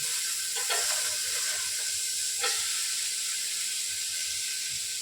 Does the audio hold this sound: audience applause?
no